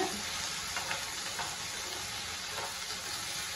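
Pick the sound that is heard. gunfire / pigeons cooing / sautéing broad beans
sautéing broad beans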